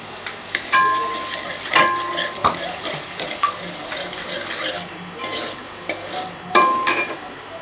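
Garlic frying in a spoonful of oil for a taro curry, stirred in a pan with sharp metallic scrapes and clinks of the spoon against the pan over a low background sizzle.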